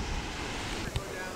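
Ocean waves break and wash on a beach in a brief, continuous roar of surf, mixed with wind buffeting the microphone.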